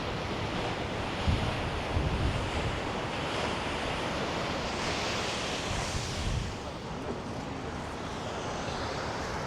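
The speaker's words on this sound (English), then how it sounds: "This is the River Seine." Wind buffets the microphone beside the River Seine in Paris, with a continuous rush of water and gusts swelling loudly and steadily throughout, and no talking.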